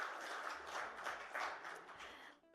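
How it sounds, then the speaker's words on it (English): A conference audience at a hospital event applauds, a soft, steady wash of many hands clapping that fades out at the end, heard at a distance and fairly faint. "can we hear it up with a big round of applause for Manipal Hospitals for this"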